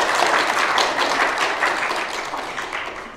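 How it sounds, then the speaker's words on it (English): A lecture audience gives a steady round of applause, dense and fairly close, which holds strong for a few seconds before gradually fading. "So let's give him a round of applause today."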